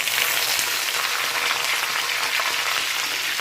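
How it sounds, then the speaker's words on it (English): Vegetables sizzle loudly and continuously as they stir-fry in hot oil, a bright, steady crackling hiss with no voices. "Now we're going to stir fry it."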